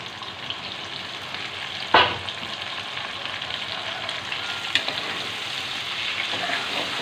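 Large prawns sizzle in a frying pan with a steady close hiss, a couple of sharper pops and a stir standing out above the constant frying noise.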